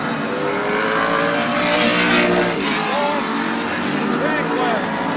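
Engines of stock cars roar steadily around the Midvale Speedway oval at a fall classic, a dense, loud, continuous rumble with pitch sweeps as cars pass, while an announcer talks over it.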